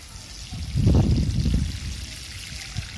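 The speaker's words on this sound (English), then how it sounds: "So now what we do now, just water the plants. The first time, water the plants full." Water is poured onto potted amaryllis bulbs, making a close, splashing gush that swells for about a second and then settles into a softer trickle.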